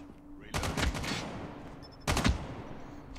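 A BK57 assault rifle fires in Call of Duty Mobile in two short, loud bursts of rapid automatic gunfire separated by a brief pause.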